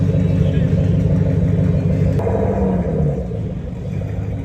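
A loud boosted car engine at a cars and coffee meet rumbles and revs nearby, then eases off toward the end, with crowd chatter mixed underneath.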